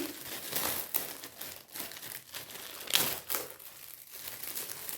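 Close crinkling and rustling of a plastic wrapper as a gift package from a jewellers is unwrapped, continuous papery crackles with a few sharper snaps, fairly quiet and without talking.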